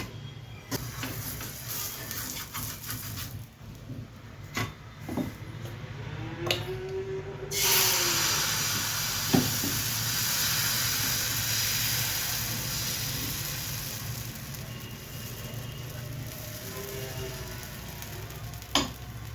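Sweet dosa batter made with Balamrutham sizzles steadily on a hot pan, a continuous close frying hiss that swells as fresh batter goes down, with occasional clinks and scrapes and no talking.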